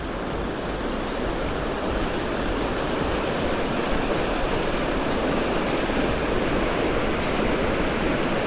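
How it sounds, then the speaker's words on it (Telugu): A river of clear water flows near Pangong Lake in the high Himalayas, making a steady, loud, unbroken rush of water that holds at an even level throughout, with no talk. "ప్యూర్ వాటర్, రివర్ వెళ్తుంది."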